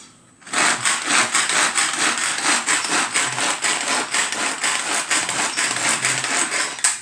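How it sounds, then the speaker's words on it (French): Onion being chopped with a knife on a board, a fast steady run of crisp rhythmic cutting strokes, close and fairly loud, with no talking. "on va hacher l'oignon"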